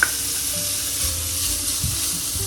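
Steady sizzling of pork belly frying in a pot for bograch, a continuous crackling hiss with occasional low clunks and scrapes.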